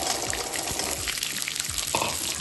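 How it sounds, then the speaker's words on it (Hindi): Peas added to a hot pan, giving a continuous loud crackling sizzle with some stirring noises, no talk. "डाल लेते हैं मटर।"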